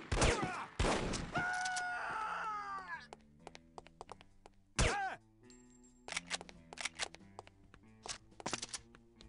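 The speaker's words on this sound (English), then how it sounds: "Look out for the bullets!" Sharp bursts of gunfire crack out over the first seconds, followed by scattered lighter pops and clinks against a quiet background, with some whooshing bullet sounds in between.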